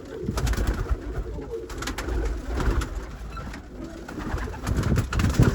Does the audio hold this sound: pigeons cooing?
yes